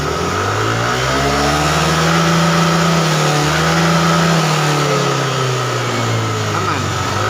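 A Yamaha Aerox scooter engine revs up and back down without reaching high RPM, a loud, close, rising and falling mechanical drone with a steady buzz, while someone talks over it.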